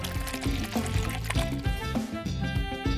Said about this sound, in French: Je vais verser du thé chaud à l'intérieur. Je remplis à ras-bord.